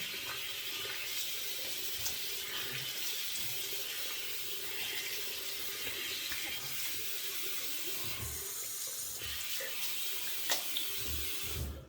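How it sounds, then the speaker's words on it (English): Tap water runs steadily from a faucet into a sink to rinse off after a double-edge safety razor shave, a continuous close splashing hiss that carries through the whole stretch with a few brief louder splashes. "Hot water, then cold water."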